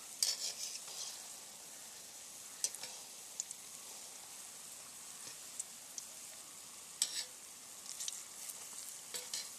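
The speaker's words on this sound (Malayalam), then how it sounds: "ഇത് എണ്ണ നന്നായിട്ട് തിളച്ചിരിക്കുന്നത് കൊണ്ടാണ് ഇത്ര വേഗത്തിൽ ക്വിക്കായിട്ട് വരുന്നത്." Sukhiyan, sweet Kerala fritters, fry in deep hot oil with a steady soft sizzle and scattered small crackles and pops, fairly quiet throughout with no talk.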